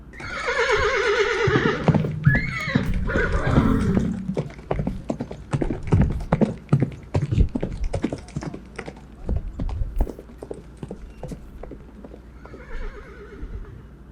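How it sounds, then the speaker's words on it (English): A horse pulling a cab neighs loudly, then hooves clop in a quick, uneven rhythm before another whinny near the end. "Horse cab!"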